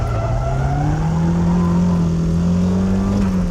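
A car drifts through a corner after the driver pulls the e-brake, its engine note rising steadily and loud with a sustained tonal whine, heard close from inside or on board, without talk.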